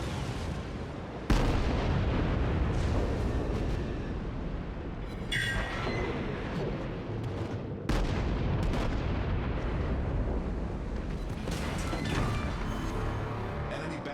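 Naval guns fire in heavy booming bursts and an ammunition magazine detonates in a World of Warships battle, dense continuous rumble with several sharp onsets over the roar.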